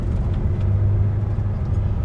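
Low, steady diesel rumble of a fifth-wheel truck rolling slowly as it parks up against a fence, close and even throughout with no talk.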